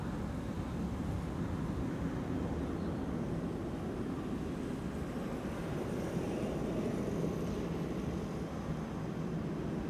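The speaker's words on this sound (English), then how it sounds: "Etihad A321neo, that is a premiere here." An Etihad Airbus A321neo rumbles at Amsterdam Schiphol Airport, a steady broad distant jet roar with no distinct peaks.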